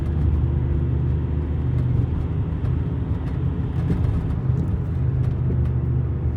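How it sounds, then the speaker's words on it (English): A TDI car accelerating hard at full throttle through second and third gear, showing a P2196/P0101 sensor fault, gives a steady, loud low engine drone and road rumble that runs continuously. "second gear to the floor, third gear to the floor"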